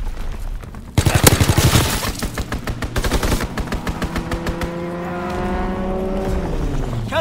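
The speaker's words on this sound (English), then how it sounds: "Strafing run inbound." A strafing run in Call of Duty WW2 on PS4 opens with a sudden loud blast, then rapid bursts of machine-gun fire hammer in quick succession before trailing into a droning engine-like tone.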